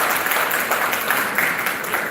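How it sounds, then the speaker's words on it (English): Sustained clapping from a student audience at a college event, a dense even patter of many hands filling the hall for a couple of seconds with no speech over it. "A huge round of applause, dear students."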